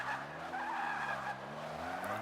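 Tires squeal steadily as a Mazda RX3 drifts in the racing game Forza 5, a continuous, fairly faint skid with a wavering whine and no voices.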